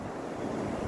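Sea surf washing against a shoreline beside an old coastal community, a soft continuous rumbling wash mixed with wind buffeting the microphone, faint and steady with no speech.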